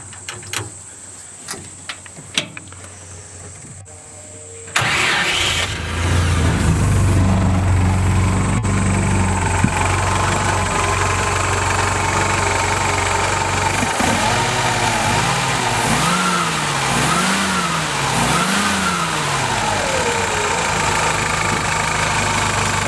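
A 1966 Willys Jeep CJ5 engine cranks and fires after a few quiet seconds, then settles into a loud, steady close-up idle with rising and falling revs.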